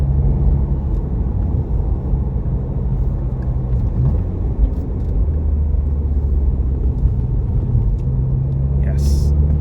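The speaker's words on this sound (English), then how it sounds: "Because now I want to drive this car fast." A sports sedan's engine roars steadily at speed, a loud continuous low rumble with road noise and no pauses.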